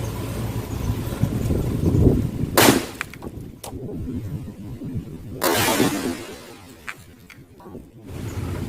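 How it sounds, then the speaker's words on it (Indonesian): Two loud bursting bangs from happy flower firecrackers exploding inside a bamboo tube, several seconds apart, ring out over wind and rumbling outdoor noise, with crackling debris after each. "Sekarang kita cobain petasan disco atau petasan happy flower."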